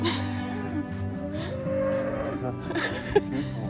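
A Scottish cow at a farm park gives a low, drawn-out moo against busy outdoor background noise, with a brief sharp sound near the end.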